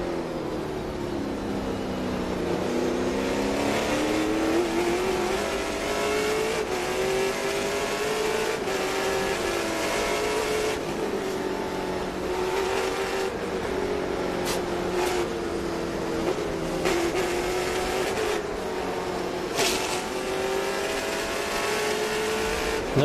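Onboard engine of a Trans Am TA2 race car at Sonoma, a loud sustained drone whose pitch falls and rises through braking and downshifts, with brief gear-change breaks and no voices.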